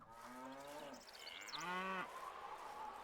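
Cows in the castle-building game Stronghold give two drawn-out moos, one after the other, moderately close and alone over quiet background.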